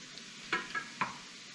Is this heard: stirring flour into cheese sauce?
yes